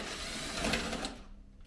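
A power driver with a Torx T30 bit removes the upper headlight screws on a 2002 Audi A4 B6, giving a short, steady whirring buzz close by that stops abruptly.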